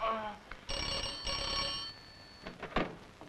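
An old-style telephone bell rings in a sustained trill, with brief voices and clatter around it in a room.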